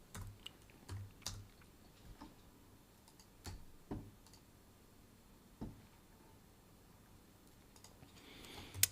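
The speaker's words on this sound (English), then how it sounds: "I'm typing in on Discord again." Computer keyboard typing during a live C++ programming session, heard as scattered bursts of close, faint key clicks separated by pauses, with no talking.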